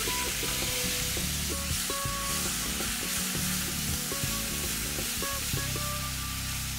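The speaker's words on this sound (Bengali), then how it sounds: "মাঝারি আঁচে ভাজবে যতক্ষণ না রংটা এরকম খয়েরি হয়ে আসে" Onion paste fries in oil with dried red chilli, bay leaf, cardamom, cloves, cinnamon and cumin seeds over medium heat. It gives a dense, continuous close sizzle with stirring scrapes and faint tones running underneath.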